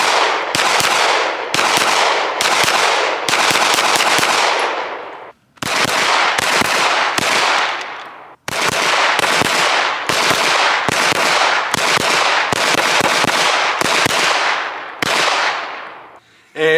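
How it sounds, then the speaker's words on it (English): Rapid strings of pistol shots from a Sig Sauer P320 with an aftermarket trigger at an outdoor range, loud and close, fired in quick bursts with short pauses between strings. "we might as well go out to the range and shoot it"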